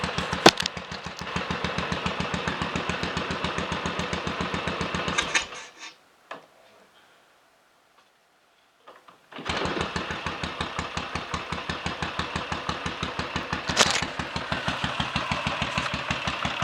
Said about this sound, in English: See if we can kick-start it straight into a tick over without touching the throttle.